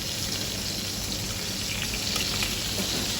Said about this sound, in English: Your meat is basically frying below